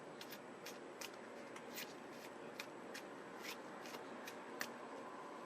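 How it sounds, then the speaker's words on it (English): A deck of playing cards is shuffled by hand, giving a quiet run of crisp riffling bursts in an irregular rhythm, close and faint against a soft room background, with no voices. "tell me when to stop shuffling"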